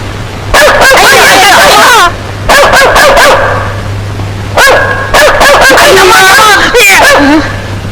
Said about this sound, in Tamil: என்னடா நாய் குலைக்குது